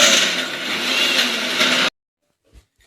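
Mixer grinder grinding coconut, shallots and tomato into a paste for fish curry, a loud, close whirring blade noise for about two seconds that cuts off abruptly, followed by a couple of faint knocks.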